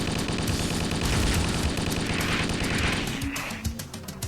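Rapid assault rifle fire in a Halo 2D fangame, a dense stream of repeated shots with rumbling booms underneath, loud and continuous before tapering off near the end.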